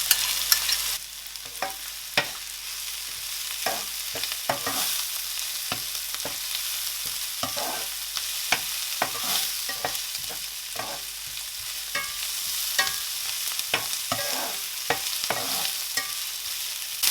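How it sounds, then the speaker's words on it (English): Ginger and garlic fry in a pot for a lamb stew: a steady, loud hiss of hot oil runs throughout, punctuated by regular scraping strokes of a stirring spoon. "So now add ginger and garlic."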